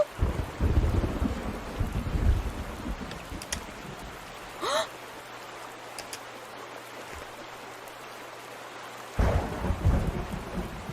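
Thunder in the video game A Space For The Unbound: low rolling rumbles burst in at the start and again near the end over a steady patter of rain, with a few brief tonal game sounds between.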